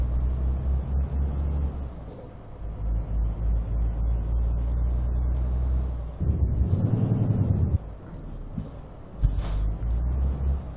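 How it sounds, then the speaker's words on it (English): Heavy truck in Euro Truck Simulator 2 with a steady low engine drone, then a loud, deep retarder roar swelling for about a second and a half before easing, followed by a shorter second braking surge. "this one's got some sort of motorized brake or a retarder on it, because yeah, you can hear they go doo, and it slows down really quick"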